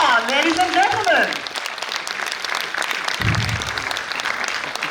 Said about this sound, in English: Can you have a huge round of applause for our next volunteer?